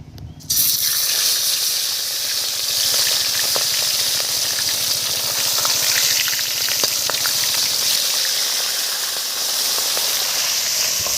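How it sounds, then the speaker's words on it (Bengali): Hilsa fish sizzling in hot oil in a wok, a loud continuous frying crackle and hiss that bursts in suddenly and holds steady throughout, with no talking. "কড়াই তেল দিয়ে দিলাম, তেল গরম হয়ে গেছে, এবারে মাছগুলো আমি কড়াই তুলে দেবো।"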